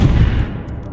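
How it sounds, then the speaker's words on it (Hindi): A helicopter blasts apart after a bullet strikes its rotor blades: a single loud, close, boomy explosion with a heavy low rumble that decays over about a second. "जैसे ही गोली उस पर लगती है एक जोरदार ब्लास्ट होता है।"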